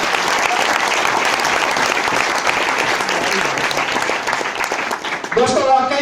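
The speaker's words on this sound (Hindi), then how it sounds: "तो एक जोरदार तालियां चाहूंगा" An audience at a network marketing meeting claps loudly in a dense, sustained burst that runs throughout, with a voice rising over the end.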